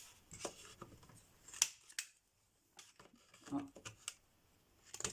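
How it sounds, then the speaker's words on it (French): Scissors make a few short crisp snips as paper corners are rounded during a craft project, with quiet handling clicks and rustles between them and a brief vocal murmur. "On va remettre un petit coup de ciseau là"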